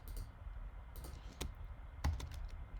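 Keys clack on a computer keyboard in short irregular bursts of typing, close and fairly quiet, with no voice over them.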